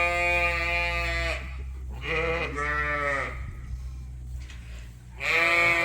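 Ewes and lambs bleat in a lambing barn on a sheep farm, with several loud, drawn-out calls close by, separated by short pauses over a steady low hum of barn noise.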